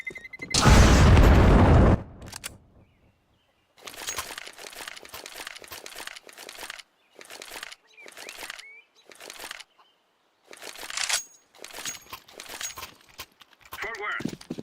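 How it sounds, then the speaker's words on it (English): A bomb detonates in a Counter-Strike-style tactical shooter round: one loud, broad blast up front lasting about two seconds, followed by bursts of voices and game sounds. "Terrorists win. They can't stop the bomb now."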